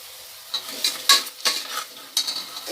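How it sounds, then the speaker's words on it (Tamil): Onions sautéing with ginger garlic paste in a pan for mushroom biryani, a faint hiss under a few sharp metallic spoon scrapes and clinks against the pan. "இப்போ நம்ம இஞ்சி பூண்டு பேஸ்ட்டு சேர்த்துக்கலாம். இதையும் நம்ம"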